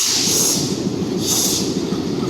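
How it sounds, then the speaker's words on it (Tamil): Passenger train from Thiruvarur to Karaikudi arriving at platform one, a loud continuous rumble of wheels and carriages with a sustained high hiss, steady and close throughout. "பிளாட்ஃபார்ம் நம்பர் ஒனில் திருவாரூர்லேருந்து காரைக்குடி வர பேசஞ்சர் ட்ரெயின் நிறைவாயிட்டு இருக்குது"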